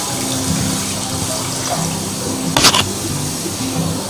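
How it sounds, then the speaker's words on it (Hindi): Water pours from a glass into a cooking pan for boiling boneless chicken, a steady splashing stream with a brief louder slosh near the end, under a low background hum. "पैन में मैं पानी डालूंगी।"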